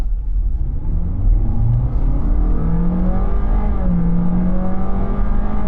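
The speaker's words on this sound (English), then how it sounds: "Granted, it is smooth with that e-CVT bit, but really it's very noisy, it's very drony, it's not very pleasant to listen to." A Honda Jazz Crosstar with an e-CVT gearbox drones continuously under acceleration, a steady low engine hum with rising tonal whine heard from inside the car, with no talking.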